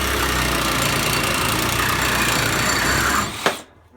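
A Ridgid reciprocating saw cuts hard under heavy push while chipping its blade teeth, a loud steady rasping motor drone that cuts off abruptly near the end.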